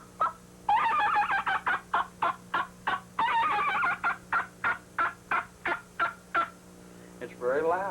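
A turkey call imitates a loud hen, yelping in fast rhythmic runs and sharp repeated notes to shock a tom into gobbling, close and alone against a low steady hum, ending in a brief rising squawk.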